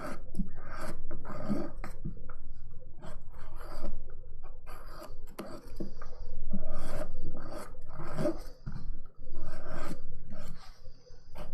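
A nail file rasps along the sides of dip powder nails during a manicure, making close, loud strokes in quick rough bursts with short pauses between them, with no talking.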